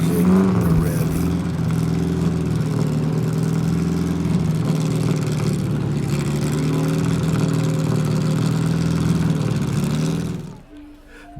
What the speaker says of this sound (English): This brings a lot of excitement to the crowd to hear these cars. The engine, the revving.